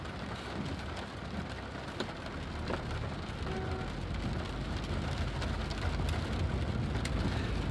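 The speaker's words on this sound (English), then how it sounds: "It was a rainy day on the way into work." Steady rain patters on a car while driving to work, a dense, constant hiss of drops with faint road rumble beneath and no one speaking.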